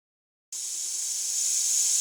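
Steam hisses steadily from a kit-built model steam locomotive under pressure, starting abruptly after a brief silence and then continuing as a bright, constant jet that slowly grows louder.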